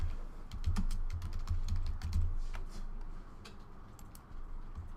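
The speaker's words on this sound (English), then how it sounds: "Let me just point out that if I type something," Keys clatter in a quick, steady run as someone types on a computer keyboard during an ASP.NET web form coding demo, close and continuous over a low room hum with no talking.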